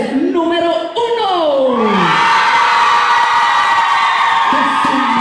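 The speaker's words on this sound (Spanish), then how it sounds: "Que se escuche el grito para los concursantes número uno." A large game-show crowd yelling and cheering loudly for contestants, rising voices swelling into a sustained roar of shouts and whoops.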